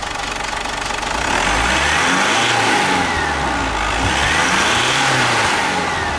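A Mazda BT-50 engine revved during a diagnostic scan test: a loud, close mid-pitched roar that climbs and holds at raised revs, with a slight second surge.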